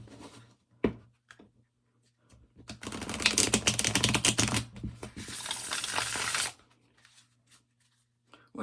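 A tarot card deck is being shuffled, heard as a sharp snap followed by a dense, close riffling flutter of cards lasting a few seconds, then a few soft taps as the deck settles.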